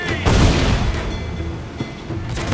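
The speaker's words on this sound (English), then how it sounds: "Cannon ready!" Ship cannons firing during a naval battle in the video game Assassin's Creed IV Black Flag, a loud deep boom followed by rumbling and scattered smaller blasts.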